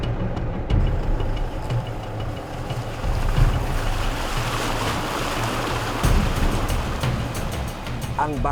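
A stream in the Philippines rushes and splashes steadily while it is crossed on foot, a continuous close wash of flowing water with occasional louder surges and faint voices.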